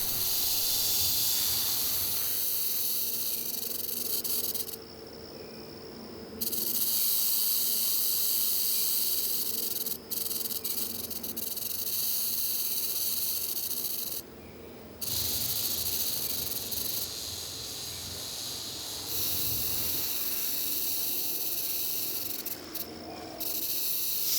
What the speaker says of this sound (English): vibrating 40 to 60 times per second and producing a rattling noise when the snake is irritated